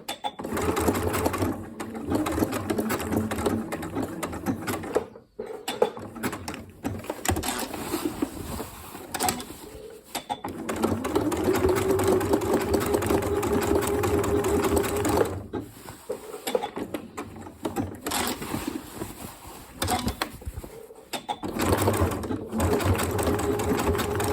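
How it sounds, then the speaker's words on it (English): A Janome sewing machine stitches an applique with a steady, close mechanical whirr. The stitching runs in bursts that stop briefly around 5 and 15 seconds while the fabric is turned. "You're going to do 2 or 3 stitches, then lift the presser foot and just turn."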